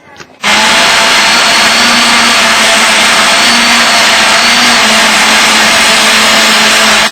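A blender roars loud and steady, mixing a smoothie with a sudden start after a brief quiet moment, then a constant high whirring motor drone that holds without pause.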